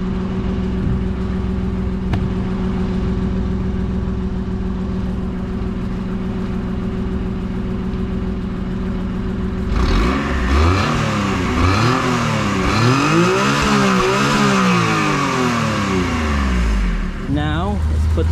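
A 1993 Mitsubishi Bravo kei van with no exhaust idles with a steady low drone, then revs hard several times in rising and falling sweeps before dropping back to idle, loud and close.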